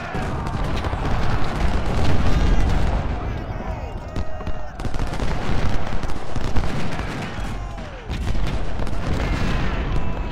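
Musket and cannon fire rumble through a battle at Cold Harbor in Ultimate General: Civil War, a video game, with dense continuous volleys and booms and brief lulls, loud and chaotic throughout.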